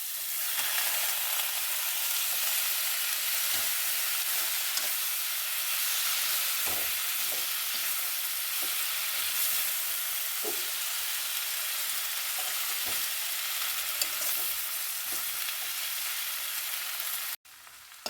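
Taro leaves and potatoes fry steadily in a pan, a dense continuous sizzle with faint stirring clicks scattered through, close and alone without voices.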